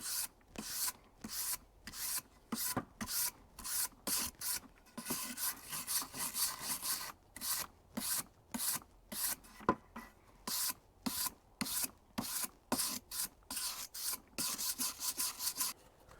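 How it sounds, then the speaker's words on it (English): A wire brush scrubs old timber from a polytunnel frame in rhythmic strokes, a series of short, close rasping bursts separated by brief pauses, repeated steadily and alone. "with a wire brush, and that will clean up most of the rubbish, and the same on the other bits of old timber"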